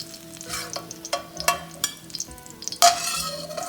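Scallions stir-fry in oil with a soft crackling sizzle, broken by the scrape and clink of a spatula against the pan at irregular intervals, close and fairly quiet.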